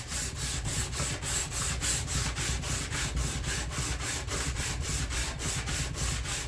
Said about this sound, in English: 60 grit sandpaper on a piece of lumber here that I'm fairly certain is flat